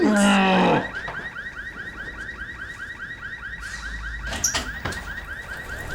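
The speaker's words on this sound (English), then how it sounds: "bloody stupid car alarms that only go off... That's ours, isn't it?" A car alarm goes off nearby with a loud opening blast, then settles into a fast, repeating warbling siren with a few knocks and thumps near the end.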